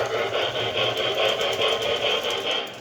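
A Proto 1 model locomotive runs after its throttle is applied, giving off a steady, rapidly pulsing mechanical whir with a rhythmic chatter that stays even and fairly loud, then drops away at the end.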